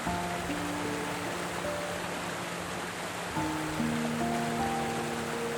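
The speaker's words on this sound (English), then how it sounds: "Just a waterfall, dropping hundreds of feet into pure mist" A remote jungle waterfall in the Amazon plunging hundreds of feet into mist makes a steady broadband rushing roar, distant and even, with faint tonal music underneath and no voices.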